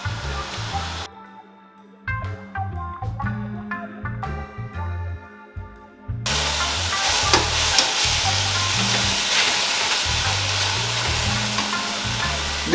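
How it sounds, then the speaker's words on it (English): Sweet peppers, chilies, spring onions and leek fry and get stirred in a hot pan, with steady loud sizzling broken by clinks and scrapes of the utensil, then a fuller continuous sizzle. "The vegetables have been cooking for a while."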